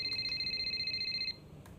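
A phone rings in the F1 2025 video game, a steady electronic ringtone with rapid pulsing tones that stop about two-thirds of the way through, faint and alone.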